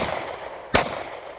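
Single sharp gunshot during a tactical team training exercise, one loud crack rising out of a steady background hiss partway through the short clip, with no talk.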